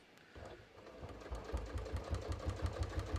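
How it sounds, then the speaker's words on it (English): A sewing machine stitches through several layers of denim for a pair of jeans at a 3.5 stitch length. Its steady, rhythmic needle thumps are close and pick up pace after a short quiet start. "I'm going to carefully sew these layers together."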